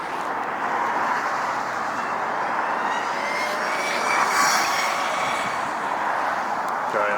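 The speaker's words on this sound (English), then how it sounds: "takeoff is lining up" A heavy jet at LAX airport powers up for takeoff, a broad steady roar with a rising whine, held at moderate loudness from a distance and swelling slightly midway, with no talk over it.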